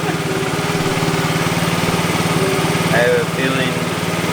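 A 50cc moped engine runs steadily with its choke on, a close, even buzzing idle that continues throughout while a person speaks briefly over it.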